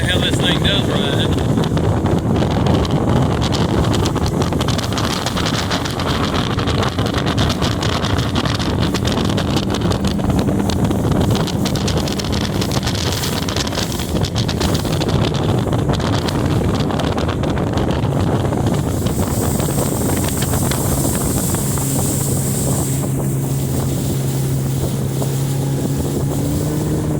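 A 2019 Tracker TF 175 aluminum boat's outboard motor runs under power on a choppy lake, a steady loud drone mixed with wind buffeting and water slap that holds throughout, with the pitch shifting near the end.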